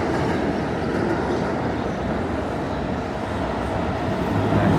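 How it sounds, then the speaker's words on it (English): A loud, continuous low rumble of a subway train passing beneath a street grate on 7th Avenue in New York City, roaring steadily throughout with no voices. "another subway train passing below us."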